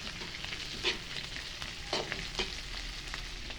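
Food fries quietly in a pan at home while a utensil stirs through it, with soft sizzling and a few scraping knocks, then a louder clatter right at the end; nobody speaks.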